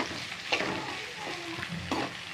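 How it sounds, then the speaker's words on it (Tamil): Green peas sautéing in oil in a pan for a potato and pea kurma, a soft sizzle with a few spatula stirs and scrapes, close and fairly quiet. "இப்போ நல்லா வதக்கி விட்டுக்கோங்க ஒரு பத்து நிமிஷம் நல்லா எண்ணெயிலே வதக்கி விட்டுக்கலாம்"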